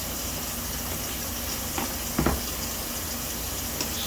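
Hot water runs steadily from a newly installed faucet during a countertop plumbing install, a continuous close hiss of flowing water with a couple of brief clunks partway through.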